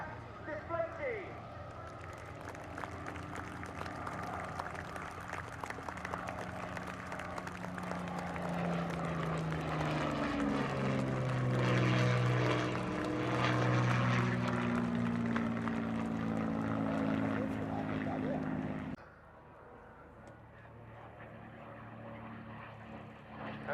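Rolls-Royce Merlin engines of Battle of Britain Memorial Flight aircraft droning loud and steady at an airshow, a sustained propeller roar that swells and shifts in pitch as the planes pass, then cuts away near the end, with a voice on a public address over it.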